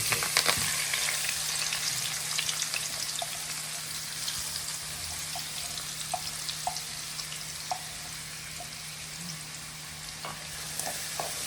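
Garlic, mustard seeds, fenugreek, onion, green chili and curry leaves fry in hot oil for a fish curry, giving a continuous dense sizzle with occasional small pops and faint clinks, close and steady, with no voices.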